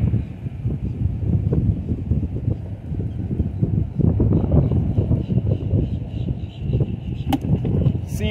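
Steady wind roars and buffets the microphone out on open water while fishing from a boat for bluegill and shellcracker, a constant loud rumble with no speech.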